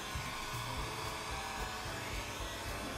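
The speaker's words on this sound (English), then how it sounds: "Grab the blow dryer, warm it up." A hair dryer blows continuously at close range, warming the corners of a vinyl wrap on a MacBook, with a steady whooshing roar and no speech.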